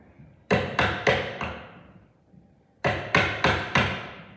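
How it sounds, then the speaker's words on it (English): A moderately sharp chisel is driven into timber by sharp, percussive strikes: a group of four quick, loud knocks, a short pause, then four more, each ringing briefly and close by with no talking. "this chisel is not the sharpest one, but it's also not the bluntest, so it's doing an okay job with the finish it's leaving behind on my timber"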